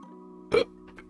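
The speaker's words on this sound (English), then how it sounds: "That was a burp." A single short burp, sharp and close, stands out over a faint steady hum, followed by a tiny soft sound.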